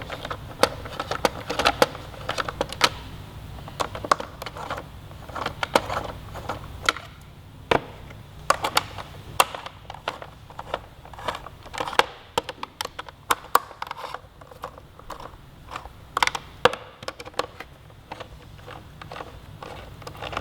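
Small metal internal hex fasteners are threaded in by hand with a T-handle hex key on a 2018 Suzuki GSX-R1000 during a block-off plate install, producing scattered light clicks and taps over about twenty seconds with no talking.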